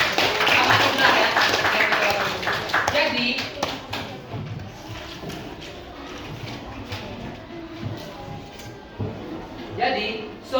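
A Year 7 class at SMPN 08 Kota Bengkulu applauds a student, a burst of dense clapping that fades over a few seconds while a teacher's voice speaks over it.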